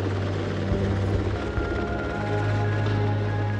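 A Coast Guard helicopter in flight near Alaska, its rotor and engine giving a loud, continuous thudding roar throughout.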